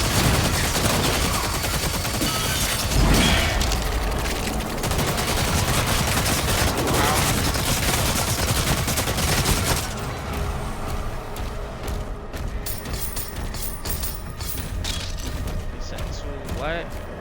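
Rapid, dense gunfire from the video game Doom: The Dark Ages, a loud continuous barrage of shots and booms that eases after about ten seconds into sparser firing and mechanical clatter, with a player's voice talking over it.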